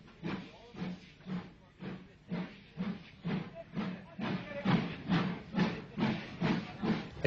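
A Southern Railway King Arthur class steam locomotive working the Down Southern Belle at East Croydon, giving rhythmic steam exhaust beats: about a dozen evenly spaced chuffs with hiss between them, steady and moderately close.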